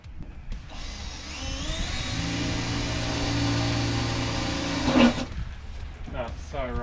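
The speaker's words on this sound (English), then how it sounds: "Righto, I've got a 3 mil drill bit and going to drill into the side of my car." A power drill with a 3 mm bit bores into the side of a car body, a steady high whine lasting about three seconds that ends in a sharp bite, with voices before and after.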